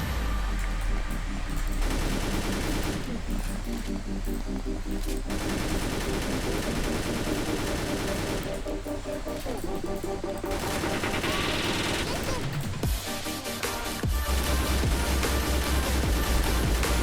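Sustained video-game gunfire from a Roblox Mad City PvP fight, dense overlapping shots and bursts running continuously at steady loudness over music, with a brief lull near the end.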